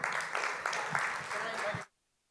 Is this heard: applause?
yes